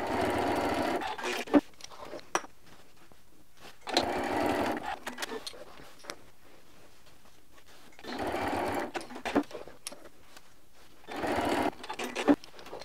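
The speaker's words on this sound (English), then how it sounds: "you might notice that I'm sewing from the reference line out now" A sewing machine stitches a scrappy quilt-as-you-go block, whirring in four separate runs of a few seconds each, with quiet gaps between them and a few faint clicks.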